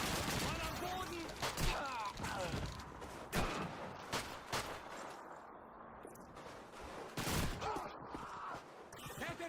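Gunfire in a World War II battle in an Xbox 360 launch-era video game: repeated sharp shots and bursts across the whole clip, with shouted in-game voices mixed in.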